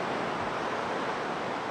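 Ocean surf breaking along a South African seashore at night, a steady soft hiss of waves rolling in, distant and fairly faint with no voices.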